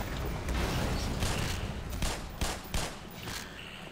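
Rapid bursts of gunfire in the shooter game Black Mesa, with several sharp loud shots cracking over a dense, noisy background of continuous action.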